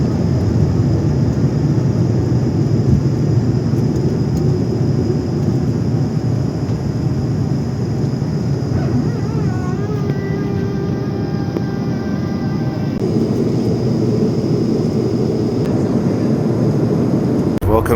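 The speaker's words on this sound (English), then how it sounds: "we were about to take off into the gloomy Munich skies" An airBaltic Airbus A220-300 takes off from Munich, heard from the cabin as a loud, steady engine roar with a rising whine partway through and a faint voice under the noise.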